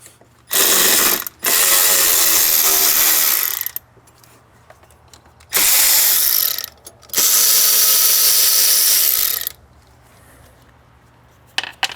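Ratchet or power tool removing bolts on a Mercedes Sprinter resonator, four loud sustained whirring runs of a few seconds each separated by quiet gaps, very close.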